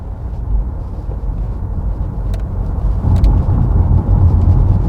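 A 2021 Porsche Taycan Turbo S in normal mode pulls onto a highway entrance ramp, giving a steady, loud low-frequency road and tire rumble from inside the cabin that swells slightly as speed builds, with no talk.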